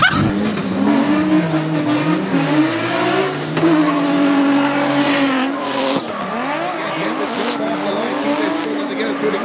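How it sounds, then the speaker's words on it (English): A race car accelerates hard through the gears on a track, its engine note climbing and dropping with each shift, with bursts of tire squeal and a voice speaking over the loud, close engine. "Through the gears, but watch CJ"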